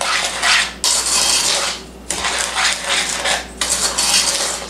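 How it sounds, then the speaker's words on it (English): Spoon stirring sugar, cocoa and salt in a pan for vintage Hershey's cocoa fudge: close, repeated scraping and clinking strokes in uneven bursts with brief pauses, no talk. "I'm going to stir this right now with this type of spoon."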